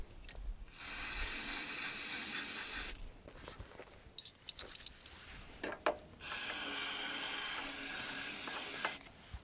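Brake cleaner sprays from an aerosol can into the idle air control port of a car's throttle body, two long steady hissing bursts of a few seconds each, close and loud, separated by quieter handling clicks.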